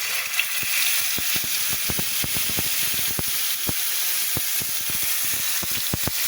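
Cumin seeds sizzle and spit in hot oil for an egg-and-bottle-gourd curry, a steady loud frying hiss studded with dense irregular crackles and pops close up, with no voices.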